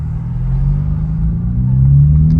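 BMW G80 M3 with lowered AST spring suspension driving on the road, a steady deep engine rumble that swells slightly as it picks up pace, continuous and close, with no talking.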